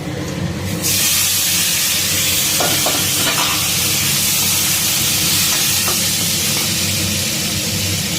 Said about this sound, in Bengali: এর মধ্যে আমি ভেজে রাখা পটলটা দেব